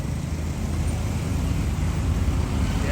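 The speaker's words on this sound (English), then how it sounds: "Ferrari 488 GTB is coming" A Ferrari 488 GTB passes on a road, its engine a loud, steady broadband roar close by, with traffic noise filling the background throughout.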